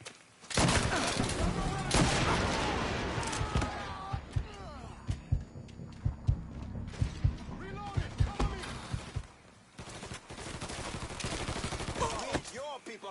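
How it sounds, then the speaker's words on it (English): Gunfire from the Mafia 3 video game crackles in sharp, repeated shots and rapid bursts over thirteen seconds, loud and close, with shouting voices mixed through the battle. "Shoot him!"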